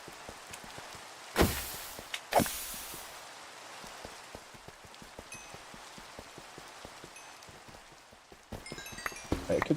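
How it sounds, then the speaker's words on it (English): Steady rain patters in Minecraft as a soft, continuous hiss with scattered drops, broken by two loud bursts early on and a busier, louder stretch near the end, with no talking. "It could stop raining any time"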